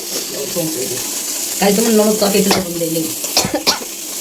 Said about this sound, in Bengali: সেই জন্য আমার শাশুড়ি মা রান্না করছে